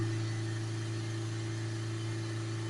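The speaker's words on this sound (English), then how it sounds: "So let's just give that another couple of accelerations there." Ford Transit Custom van engine running during DPF cleaning with a failed filter, heard as a steady, even mechanical hum with strong low tones and no audible rise in pitch, with no talking.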